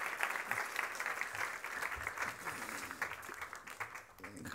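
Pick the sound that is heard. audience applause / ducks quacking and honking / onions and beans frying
audience applause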